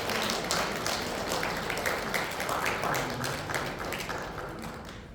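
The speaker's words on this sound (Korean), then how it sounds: "박수로 좀 환영하겠습니다." A church congregation claps to welcome a family newly immigrated from Korea during a Sunday service, a dense, steady round of applause that fades slightly toward the end.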